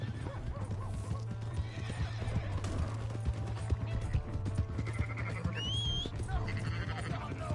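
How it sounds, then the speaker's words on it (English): A horse in Red Dead Redemption 2 clip-clops along, its hooves thudding in a busy rhythm under game music, and it lets out a high neigh partway through. "That's my horse!"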